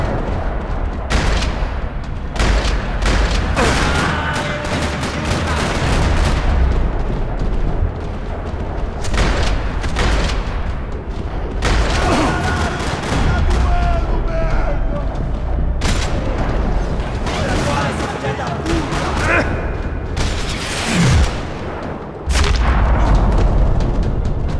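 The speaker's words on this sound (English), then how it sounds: "Another parking lot rattling with gunfire." Video-game gunfire in a parking lot from Max Payne 3: loud bursts of shots and booms rattle repeatedly across the scene, with brief pauses between volleys.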